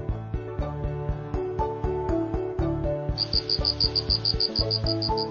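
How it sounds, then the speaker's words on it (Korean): Cricket chirps ring out as a rapid, evenly pulsed trill that enters partway through over a bouncy, plucked musical backing. "귀뚤귀뚤 귀뚜라미? 귀뚜라미 여섯 마리가 이사 왔어요."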